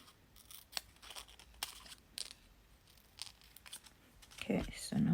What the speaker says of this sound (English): And then I'll cut the beak out.